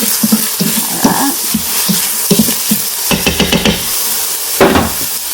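Ground beef browning on an Instant Pot's sauté setting, a loud close sizzle punctuated by brisk scraping and stirring strokes against the inner pot, with no talking.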